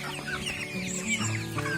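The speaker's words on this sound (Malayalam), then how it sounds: "ഏകദേശം ഒരു 500 കോഴിയുണ്ട്." A flock of about 500 broiler chickens on a farm clucks and murmurs steadily at close range, with overlapping soft calls and no talking.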